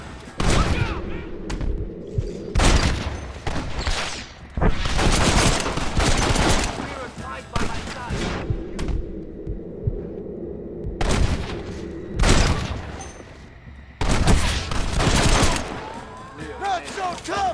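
Heavy gunfire in Red Dead Redemption, a shootout with dense volleys of rifle and pistol shots in loud bursts separated by brief lulls, with shouting voices mixed in.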